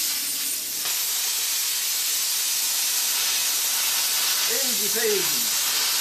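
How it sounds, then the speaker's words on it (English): Steady broadband hiss of a plasma cutter torch slicing through thin steel plate, about 5 or 6 mm thick, running continuously at close range, with a brief spoken comment near the end. "the old plasma cutter torch here, this is basically just designed for cutting steel"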